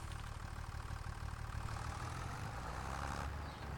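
A John Deere tractor engine runs steadily in Farming Simulator 25, a continuous low rumbling drone at moderate level with no talk over it.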